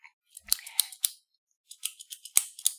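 Small metal snips clip loops off a tiny pen spring, giving a series of sharp, close clicks in two short bursts separated by a pause.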